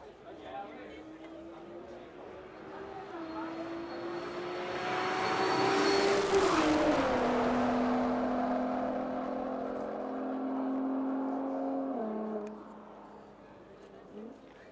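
A Nissan GTR R35 on a top-speed run builds from a distant whine into a loud, rising engine roar as it sweeps close past near the middle, then its tone drops and fades away, with faint chatter from onlookers underneath.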